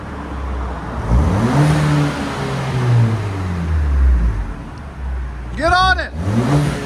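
A 2013 Ford Fusion with a 1.6L EcoBoost engine and a muffler delete revs loudly and repeatedly, the exhaust rising and falling in steady sweeps, close by, with a short burst of a bird chirping near the end.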